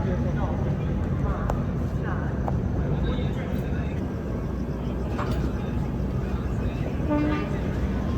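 The Veerbhumi Express pulls out of Ujjain with a steady, moderately loud rolling rumble and scattered clanks, while faint voices murmur in the background.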